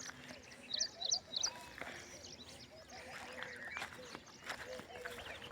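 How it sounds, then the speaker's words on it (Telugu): A mixed flock of sheep and goats in a village field bleats in short wavering calls, a cluster of three close together early on and fainter cries after, with hoof shuffling and light rustling. "గొర్రెలు ప్లస్ మేకలు రెండు ఉన్నాయి ఫ్రెండ్స్"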